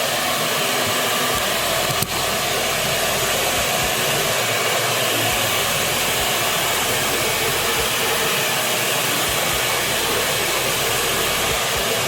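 A hair dryer blows steadily and loudly at close range while hair is brushed straight at a barber's, a continuous unbroken whoosh with no talk.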